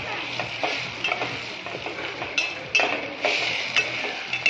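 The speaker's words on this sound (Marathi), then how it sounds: "तसं लाल होतपर्यंत भाजून घेऊया." Mutton frying and roasting in a pan at a riverside cookout, a steady close sizzle broken by repeated scraping stirs of a utensil against the pan, with no talk.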